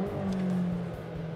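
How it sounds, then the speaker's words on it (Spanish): McLaren GT 2022 twin-turbo V8 exhaust while driving, a close engine drone with a steady tone and a few quick popping crackles from the exhaust in a short burst. "Notas petardeos a tu espalda."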